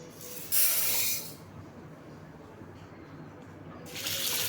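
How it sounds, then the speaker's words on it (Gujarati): Water splashes onto toor dal in a large bowl in a home kitchen, with short loud hissing tap bursts near the start and end and a quieter wash between them. "દાળમાં પાણી એડ કરીશું"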